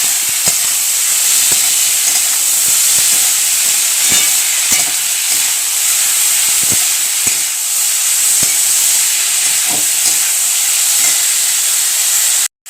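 Gima greens frying in a pan, a loud continuous hiss of steam and sizzle close by, with occasional faint stirring knocks throughout and no voices.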